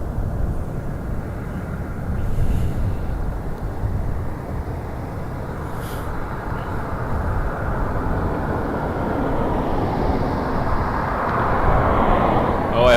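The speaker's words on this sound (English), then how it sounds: "Air Canada 993 just left the apron, is on the taxiway now" Air Canada flight 993, an airliner at Toronto Pearson airport, taxis with a broad, steady jet rumble that builds gradually over several seconds, heard from a distance alongside faint outdoor background noise.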